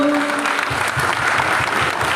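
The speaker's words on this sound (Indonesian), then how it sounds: "Saya tepuk tangan dulu" Audience applause at a community outreach gathering, loud and continuous with many hands clapping together, plus a faint low rhythmic thumping underneath and a brief tone at the start.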